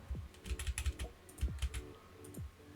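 A password is typed on a computer keyboard as a run of soft, close clicks and taps in quick uneven bursts, with brief pauses between groups of keystrokes.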